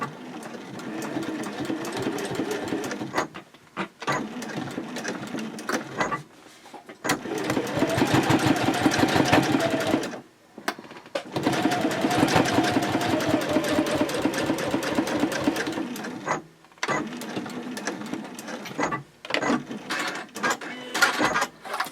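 A sewing machine top stitches fabric for a sling at stitch length 3.0, running in rapid steady bursts separated by short pauses, loud and close, with no talk over it.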